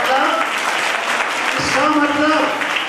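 Audience applause at an Arya youth council foundation-day gathering: a steady wash of clapping runs through the whole stretch, with a voice speaking over it.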